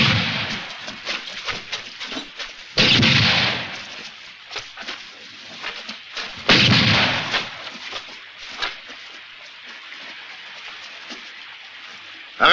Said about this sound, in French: Laissez les tirer tant qu'elles peuvent.